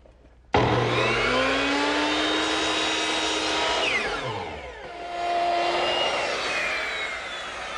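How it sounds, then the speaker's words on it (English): A miter saw set to 45 degrees with a stop block spins up and slices the corner off an oak board for a child's wagon, a loud steady whine that dips as the blade bites through, then winds on. "First thing I want to do is knock off the corners. So over here at my miter box, I've turned it to 45 degrees"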